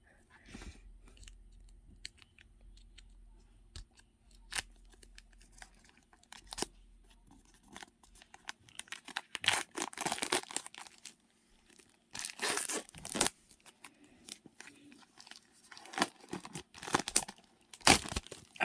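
Plastic wrapping on a Cthulhu Dark Arts Tarot Kickstarter R'lyeh edition set is cut and crinkled during unboxing, giving close, irregular bursts of tearing and crackling that grow busier partway through, with quiet gaps between.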